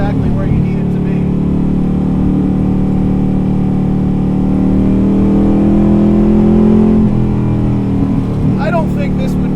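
Superformance 1965 Shelby Daytona Coupe engine droning steadily while driving, a low constant roar that swells slightly toward the end; a voice talks over it.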